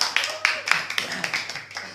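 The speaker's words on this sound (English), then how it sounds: "Give applause." Classmates give a short round of applause for a pedagogy presentation in a classroom: a few sharp, evenly spaced claps, moderately close, with a voice talking over them.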